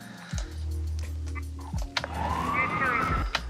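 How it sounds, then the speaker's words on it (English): Police siren sound design layered with radio chatter, the wailing siren rising and sweeping through a busy mix with bursts of static and a crackling radio voice, close and fairly loud throughout. "One is the police sirens and the radio communication."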